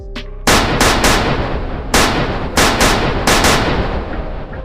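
A firing squad's rifles discharge in a loud volley, a burst of sharp, close gunshots followed by several more cracks at uneven intervals, with no voices.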